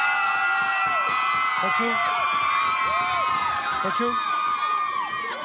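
Outdoor karaoke audience on a city square, a dense crowd roaring, whooping and cheering for a singing contestant, loud and continuous throughout, with scattered shouted voices rising above the din.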